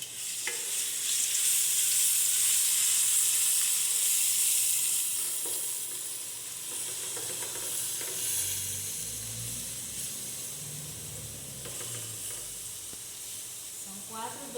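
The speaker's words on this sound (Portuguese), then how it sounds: "Aí vou colocar agora o alho para fritar" Garlic fries in hot oil in a pan with a bright, hissing sizzle that is loudest at first and then settles, broken by a few light clicks.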